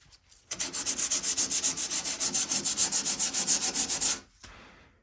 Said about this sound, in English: So I think I'm done sanding